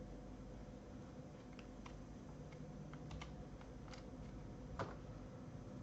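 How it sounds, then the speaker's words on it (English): Soft keystrokes on a computer keyboard while writing a beginner Python print statement, a few scattered quiet clicks over a steady low hum, one slightly louder tap near the end. "So here I type print"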